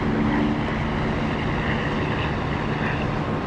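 A Harrier jet in the DCS flight simulator gives a steady, dense engine roar, loud and continuous with no breaks or talk.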